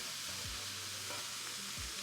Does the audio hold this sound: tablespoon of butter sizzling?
yes